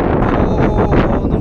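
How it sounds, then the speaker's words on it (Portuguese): Strong south wind roars steadily into the microphone outdoors, a loud, continuous buffeting rush with gusty swells throughout and no clear voices. "O vento sul tá empurrando."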